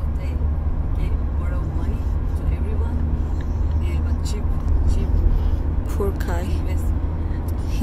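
Steady road rumble and engine drone from inside a car on an early-morning drive to the airport, loud and continuous, with a few faint voices murmuring underneath.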